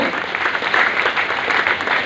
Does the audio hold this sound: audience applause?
yes